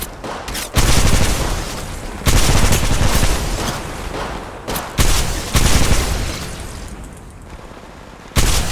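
Sustained bursts of automatic gunfire from the mobile battle royale Apex Legends Mobile, loud and close, with several heavy volleys separated by brief gaps and no talk over them.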